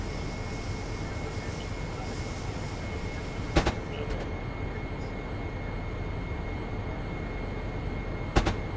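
Inside a Shoreline East commuter train (#3652) running from New Haven to New London, a loud, steady rolling rumble fills the cabin, broken by two brief sharp clanks.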